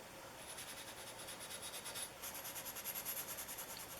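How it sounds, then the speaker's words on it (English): 4/0 steel wool scrubbing light surface rust off an old Winchester No. 3041 transitional smooth plane, a soft, quiet, steady back-and-forth rasping in even rhythmic strokes. "just let the steel wool do the work and clean off what little bit of surface rust that"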